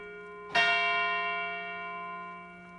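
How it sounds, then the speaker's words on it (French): A single large church bell at Aiguilles strikes once for a festive Angelus, a sharp loud onset followed by a long, slowly fading metallic hum with steady overtones, heard alone. "Trop de différence entre les grosseurs de cloche et dans la puissance de sonnerie."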